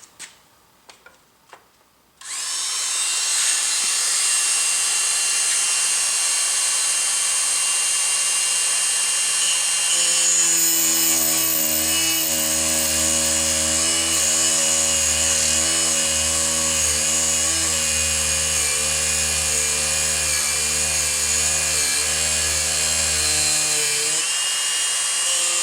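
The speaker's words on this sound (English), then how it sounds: "It's a little grinding wheel, and this is what I'm going to use to actually make some nice, clean, 90-degree corner cuts into this this tension wrench" A small grinding wheel spins up and cuts 90-degree corners into a homemade top-of-keyway tension wrench, a steady high whine with a lower harmonic drone joining partway through, close and loud and continuous, no talk.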